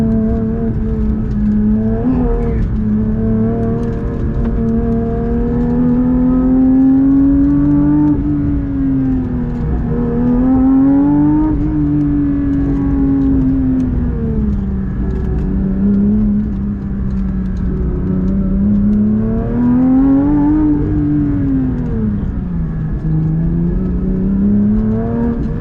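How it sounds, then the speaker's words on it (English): Manual Porsche 992 GT3 with an FI exhaust revving hard on a road drive, the engine note rising and falling through repeated sweeps, loud and close from the cabin with no talking. "And with that FI exhaust, it absolutely screams."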